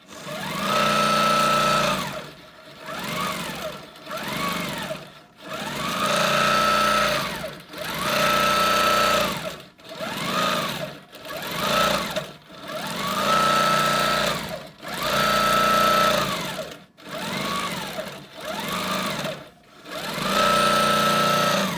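Sewing machine running in repeated bursts of stitching across a custom quilt, each run a few seconds long with brief pauses between, loud and close with a steady mechanical hum and rhythmic whir.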